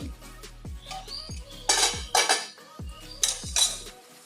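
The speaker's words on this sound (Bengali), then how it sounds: "এবারে ঢাকা খুলছি, এখনো ডাল আমার ফোটেনি।" Metal pot clatter in a kitchen as the lid comes off a pot of cooking masoor lentil dal, with several bright clanks and scrapes of metal on metal in two bursts, close and moderately loud.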